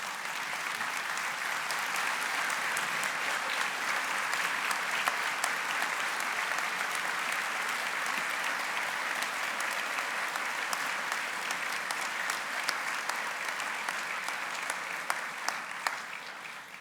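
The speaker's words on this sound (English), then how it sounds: "Now we can clap." Sustained applause from a standing audience at a summer awards ceremony, a dense, steady clatter of many hands held at even loudness for the whole stretch, tapering slightly at the very end with no voices over it.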